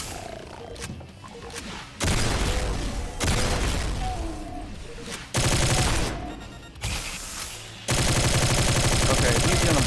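Rapid bursts of automatic gunfire from a video game weapon that overheats after 30 rounds come in loud strings separated by short pauses, with a voice talking over parts of it.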